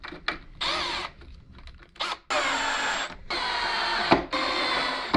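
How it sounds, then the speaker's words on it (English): Screws being driven back into a gadget with a small power screwdriver, several short whirring bursts separated by pauses, close and fairly quiet. "Let's go ahead and pop these screws back in."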